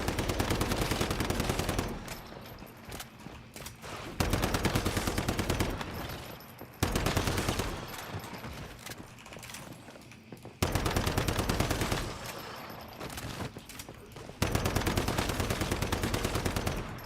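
Loud, rapid gunfire comes in repeated sustained bursts, each ending abruptly, during a boss fight in the game Once Human with snipers in use.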